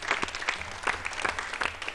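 Brief applause from a quiz audience for a competing school team, a smaller group clapping at moderate volume in a loose, uneven rhythm over a low background hum.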